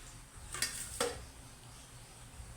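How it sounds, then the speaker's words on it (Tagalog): Beef frying in a pan, a quiet low sizzle with two quick sharp clinks of a utensil against the pan close together, close but faint. "Ito talagang ipiprito na lang natin siya."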